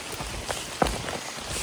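Rain falls around a kayak on a Minnesota outing, a steady hiss of drops hitting water and gear with a few louder nearby taps, no talking.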